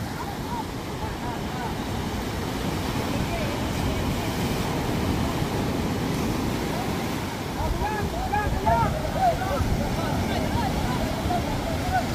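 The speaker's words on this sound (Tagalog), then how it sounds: "malaki ang alon" Big sea waves wash and crash continuously around a small outrigger boat at sea, mixed with rushing wind noise against the microphone for the whole stretch.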